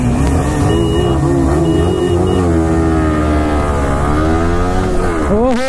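Several sport motorcycles, a Yamaha R15 V3, Suzuki Gixxer SF250 and KTM Duke 250, race together with loud, sustained engine drone and rising and falling revs as gears shift, close and continuous throughout.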